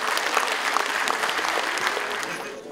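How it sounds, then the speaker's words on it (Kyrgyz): Audience applause at an evening memorial gathering, a steady dense wash of clapping from a crowd that holds evenly for nearly three seconds and eases slightly at the end, with no talk over it. "Энебизге бир кол чаап коелу"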